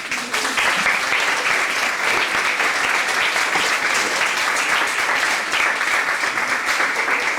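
Sustained audience applause at a Regional Summer Institute ceremony, dense steady clapping from a large crowd filling the room without letup.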